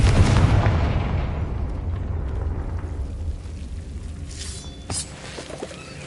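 A Confringo blasting curse explodes in a Harry Potter video game: a loud, booming burst opens and rolls off into a long, rumbling decay, with a second sharp crack near the end.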